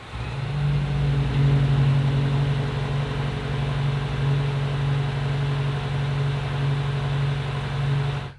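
The S68 V8 of a BMW M5 Touring G99 hybrid fires up and settles into a steady, deep, rumbling idle, heard up close and alone, cutting off at the very end.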